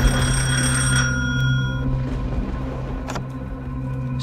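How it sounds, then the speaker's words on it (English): A telephone rings repeatedly in the Art Heist escape room video game at night, a loud electronic bell ring in steady bursts over a sustained background tone, with no talk. "Now the phone's ringing."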